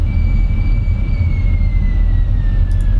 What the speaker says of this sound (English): So you hear the brakes kind of like with the aircraft, some squeaking